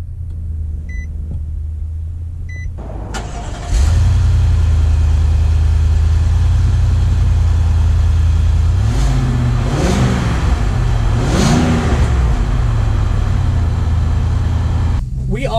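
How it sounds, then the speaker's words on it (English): A 2019 Nissan Armada Platinum starts up with a sudden loud engine rumble after a few quiet seconds, then settles into a steady idle and pulls away, with two rising revs as it accelerates, heard from inside the cabin. "let's take the 2019 Armada out to see how it drives"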